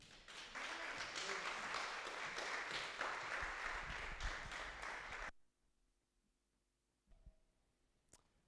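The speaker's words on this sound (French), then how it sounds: "je vous invite à applaudir très fort le Seigneur" Church congregation applauding during a French and Spanish service, steady dense clapping for about five seconds, then it stops abruptly, leaving near silence with a couple of faint knocks.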